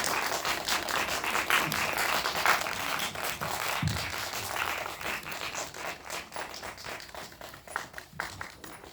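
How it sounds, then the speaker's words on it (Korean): Audience clapping to welcome a film director and actors arriving for a post-screening talk in a cinema, sustained applause that gradually tapers off, with a few scattered louder claps near the end. "여러분 박수 한번 부탁드리겠습니다"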